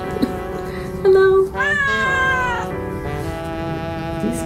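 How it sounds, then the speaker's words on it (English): A cat meows close by in several drawn-out, rising and falling cries, loud and clear against quiet outdoor background in Ubud, Bali. "This cat."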